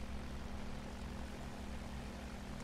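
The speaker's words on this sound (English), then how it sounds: "God damn, this plane is so fucking slow." A slow bomber plane in a video game, with a steady, droning propeller engine hum that stays constant and fairly quiet throughout the short clip.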